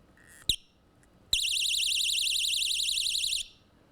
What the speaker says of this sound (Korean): 불빛과 함께 경보음이 크게 납니다.